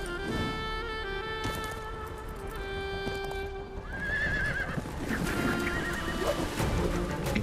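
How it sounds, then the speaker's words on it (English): Altai horses whinny loudly with long wavering neighs, while hooves clip-clop and thud in a busy outdoor scene at a Kazakh horseback contest with steady background noise throughout. "these resilient Altai horses proudly retain a wild spirit deep within"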